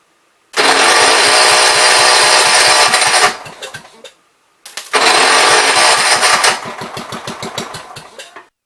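A 1973 John Deere 110 garden tractor engine is cranked twice, loud and close, each long grinding attempt catching into rough, sputtering firing before dying away, with a short silence between the two tries.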